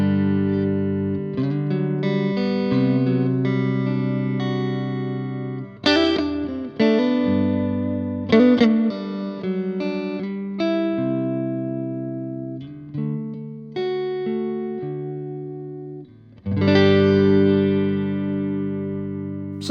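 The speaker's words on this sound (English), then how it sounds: "let's just hear the clean tone of my amp, just so you know what we're working with" Clean electric guitar played through an amplifier on a small pedalboard rig, with clear strummed chords and picked single notes ringing out alone, steady and fairly loud, with a few pauses and fresh attacks.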